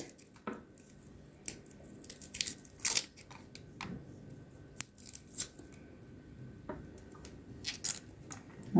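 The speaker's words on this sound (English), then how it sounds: "So what I do with garlic is I just chop the ends off like that." Garlic cloves peeled by hand up close: scattered dry papery crackles, snaps and small clicks come in irregular bursts over a quiet background, with no talking.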